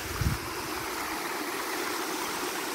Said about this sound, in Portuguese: Olha, a cachoeira cai aqui